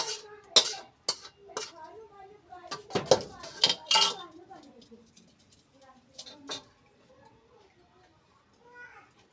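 Cooked dal is poured from one vessel into a pot, with sharp metal clanks and clattering of dishes in close bursts, strongest early on, then quieter scraping and knocks while faint voices murmur in the background.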